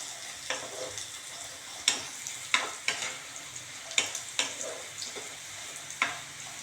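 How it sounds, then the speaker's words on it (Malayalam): A green masala is fried and stirred in a pan for a Kerala-style dish, a steady soft sizzle broken by repeated sharp scraping clicks of the spoon at irregular intervals, close and moderately loud. "എന്നിട്ട് ഞാനിതിനിങ്ങനെ ഫ്രൈ ചെയ്യുന്നുണ്ട്."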